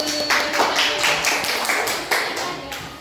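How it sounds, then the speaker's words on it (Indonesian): A classroom group of teachers claps briefly before a presentation, a loose scatter of hand claps with a few sharper taps, fairly close. "tepuk tangan dulu"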